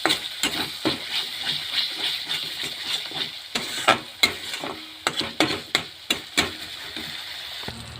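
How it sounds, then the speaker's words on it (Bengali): Spices with turmeric and salt being stirred in a pan, a run of sharp spatula scrapes and knocks against the metal over a low sizzle, close and uneven, with no talk. "অল্প লবণ দিয়ে অল্প নাড়াচাড়া করবো"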